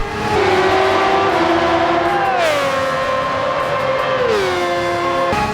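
A 1990s Formula 1 car in Gran Turismo 7 screams around Yas Marina, its high-revving engine climbing through the gears with sharp downshifts and pitch drops, loud and close with no talk.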